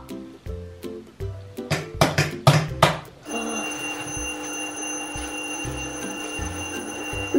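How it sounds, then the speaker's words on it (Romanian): A doorbell: several sharp clanging rings in quick succession, then a steady, continuous electronic bell tone that keeps ringing; no one speaks. "Oare cine sună la ușă?"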